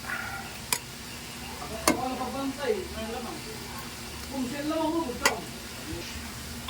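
Glutinous rice sizzling in a hot pan at home as it is added and stirred, a steady frying hiss with sharp clinks of the utensil against the pan and scraping stirs, while people talk over it.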